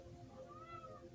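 Pet cat meowing indoors, a single drawn-out soft meow, fairly faint and close, ending with a brief louder thump.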